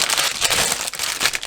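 A flimsy plastic bag holding parts of a Zvezda 1/72 Hawker Hurricane IIC model kit crinkles loudly and continuously up close, with no pauses in the rustling.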